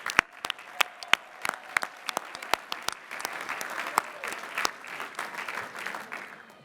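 Applause for new Doctors of Philosophy at a Lehigh University commencement ceremony, starting as sharp scattered claps and swelling into steady, dense clapping from a large seated audience.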